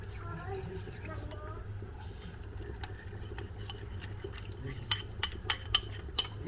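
Soft scraping and light clinks of a spoon stirring sauce in a saucepan, a few sharper taps toward the end, over low background hum.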